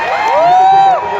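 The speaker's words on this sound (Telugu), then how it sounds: "ఒకసారి please give her huge and applause." Crowd at a college annual celebration letting out a loud, close cheer and whoop, a short, high rising shout that swells and fades within about a second.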